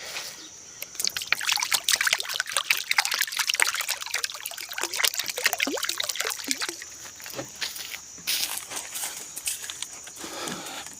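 Water trickling and splashing into a container set out for birds, an uneven run of drips and pours close at hand for several seconds before it tapers off.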